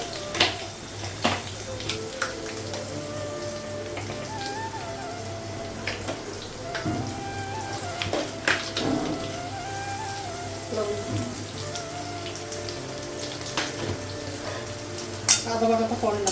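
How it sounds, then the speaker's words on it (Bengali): Potatoes fry in a pan in a home kitchen with cardamom and turmeric, giving a steady soft sizzle, with clatters and scraping of stirring and occasional knocks throughout. "আলুটা একটু ভেজে দেবো।"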